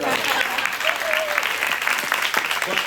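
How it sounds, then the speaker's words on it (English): Steady, dense applause from a sales-meeting audience honouring an escrow officer, loud and close, running without a break, with a few voices faintly audible within it. "she deserves a round of applause"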